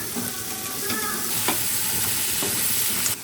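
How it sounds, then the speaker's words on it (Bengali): Sea crabs stir-fried with spices and salt in a pan; a continuous loud sizzle with scraping stirs throughout, with no talking. "কাঁকড়াটা কিন্তু একটু ভালো করেই কষিয়ে নিতে হবে"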